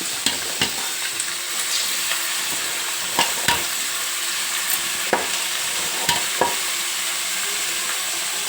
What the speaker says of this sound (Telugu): ఇప్పుడు నూనెలో ఈ నల్లేరు ముక్కలు వేసుకుందాం.